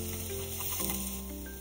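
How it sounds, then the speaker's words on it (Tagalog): Fish frying in a pan gives off a steady, close sizzle and hiss, continuous and fairly loud with no voices. "Yan, prito na natin lahat ng isda."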